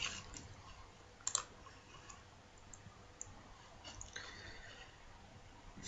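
Computer mouse clicks on a desktop, a few sharp isolated clicks near the start and a couple more later, faint and close over quiet room noise.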